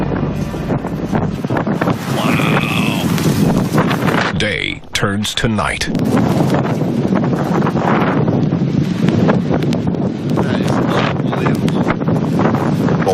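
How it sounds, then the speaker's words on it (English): Strong wind gusts roaring and buffeting the microphone outdoors as the sky darkens enough for parking lot lights to switch on, loud and continuous throughout, with a person talking briefly over it. "I realized how fast that the gusts were."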